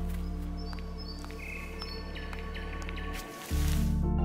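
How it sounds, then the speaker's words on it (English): Bright chirping birdsong in the video game GRIS, short high tweets scattered over a sustained low musical drone, with a deeper tone swelling in near the end. "the birds singing."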